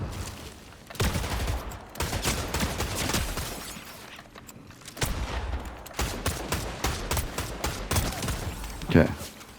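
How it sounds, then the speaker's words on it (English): Rapid bursts of rifle gunfire in Fortnite, several volleys of shots in quick succession at moderate distance, with a short pause midway and a louder shot near the end. "Someone else is shooting."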